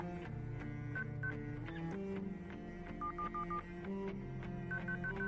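Smartphone call being dialed in the mobile game Los Angeles Crimes, with short electronic keypad tones in quick clusters over steady game music, no voices.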